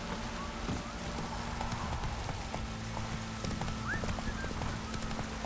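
Roach, a horse in The Witcher 3, clip-clopping along at a steady gait, hoofbeats fairly close and continuous over a low game ambience with a brief whinny.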